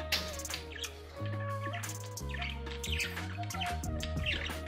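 Caged budgerigars give rapid, bright chirps and tweets, overlapping in quick bursts close by, with a steady tonal background beneath them.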